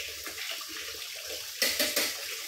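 A bowl is rinsed under a running kitchen tap while leche flan is being made. A soft, steady water flow grows into louder splashing sloshes near the end.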